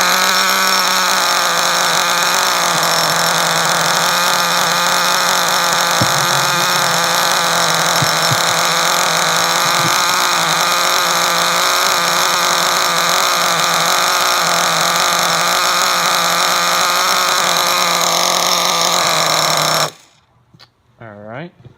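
A Trinity Next 1/16 nitro truggy engine with a plastic muffler runs loud and steady, with a high buzzing whine and strong overtones. It cuts off abruptly near the end, followed by brief faint sounds.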